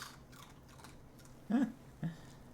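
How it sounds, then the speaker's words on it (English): A puppy crunches treats up close, with two short crisp chewing crunches over a quiet room background. "But because he's crunching treats."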